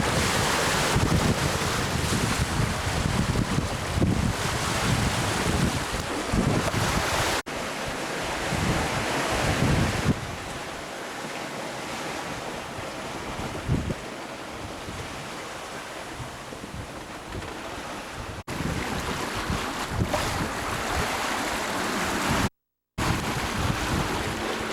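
Heavy Atlantic seas of eight to ten feet heard from a sailboat on an ocean crossing: continuous roaring surf and rushing water mixed with strong wind buffeting the microphone, loud and steady throughout, with one brief dropout near the end.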